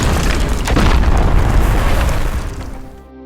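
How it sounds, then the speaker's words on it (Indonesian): A loud, deep landmine explosion boom in an action film that rumbles for a few seconds before tapering off, with no voices. "si paman menginjak ranjau yang seketika menewaskan dirinya"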